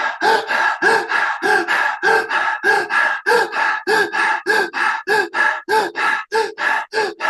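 Rapid, deep rhythmic breathing in a guided breathwork exercise, about two dozen forceful inhale-exhale cycles in a fast, steady rhythm, close and loud, with no talking.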